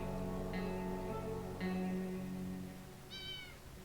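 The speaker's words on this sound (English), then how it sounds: "I heard the cat again." A cat meows in the video game 60 Seconds Reatomized, three clear meows, the last higher and shorter, heard alone over a low steady background hum.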